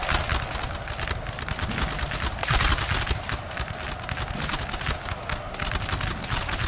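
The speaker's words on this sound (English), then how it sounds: "so I'm firing at them now" Musket volley fire rolls across a Napoleon: Total War battlefield with the NTW3 mod, a dense, loud, continuous crackle of many shots layered over one another, with a heavier burst partway through.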